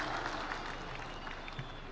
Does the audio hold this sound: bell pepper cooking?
no